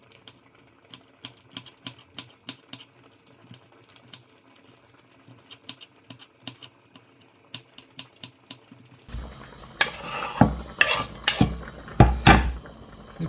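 A knife finely chops raw vegetables for a bulgur and quinoa tabbouleh, making rapid rhythmic taps on a cutting board that turn into a louder, denser burst of chopping toward the end.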